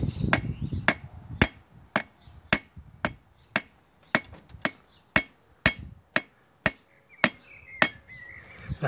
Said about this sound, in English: I'm going to try and hammer this side more